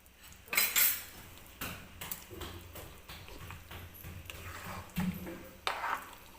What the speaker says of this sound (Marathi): थोडंसं मिक्स करून घ्यायचं परत एकदा.